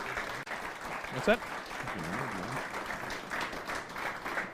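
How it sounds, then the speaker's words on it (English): Audience applauding a shootout title match winner, a dense steady clatter of clapping throughout with people talking over it. "So let's give him a round of applause."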